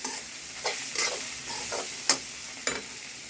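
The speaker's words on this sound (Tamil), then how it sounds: "இந்த மாதிரி வதக்கிக்கங்க இந்த பாருங்க மொறு மொறு மொறுன்னு நல்லா வதக்கிடணும்" Food is sautéed in a pan until crisp, giving a soft, steady sizzle broken by several sharp stirring scrapes of a spatula against the pan. No one speaks.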